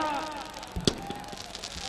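A firecracker bursts with one sharp bang amid steady crowd noise at the closing ceremony of a kabaddi tournament, with a few fainter pops afterward.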